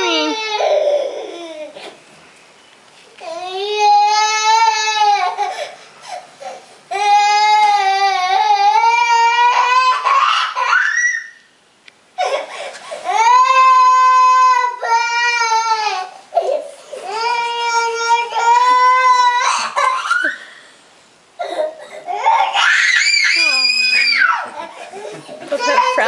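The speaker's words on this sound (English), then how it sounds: "You need to stop crying." A toddler cries and screams during a time-out, long loud wailing bursts with short gasping pauses between them, close and piercing, with no other voices heard.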